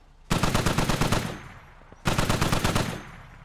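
Two long bursts of rapid automatic machine-gun fire from a vehicle-mounted gun on an MRAP in the video game Squad, each lasting about a second, loud and close, with a short pause between them.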